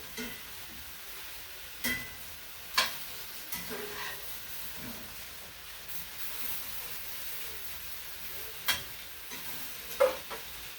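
Meat sears in a pan with a low continuous sizzle, broken by occasional sharp pops and utensil taps spread across the stretch, quiet and close.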